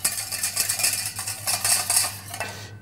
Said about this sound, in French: on va tout simplement mélanger le jaune et la moutarde.